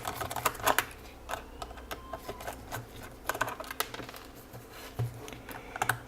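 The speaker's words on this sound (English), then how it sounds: "there's 4 screws on the top. You can start opening those screws." Screws being undone on the top of a Yongnuo YN685 camera flash during a repair: quiet, irregular small clicks and taps from the screwdriver, close up, with no talking.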